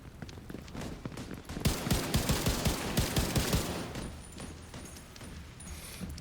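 Rapid video-game gunfire rattles in a dense burst of automatic shots, loud and close, then fades into a lighter background.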